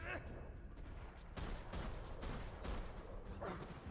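Gunfire in Max Payne 3, a run of shots landing as multiple headshots, coming as dense repeated bursts over a steady din with voice mixed in.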